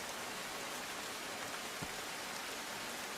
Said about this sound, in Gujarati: પાટણ જિલ્લામાં પડ્યો ધોધમાર વરસાદ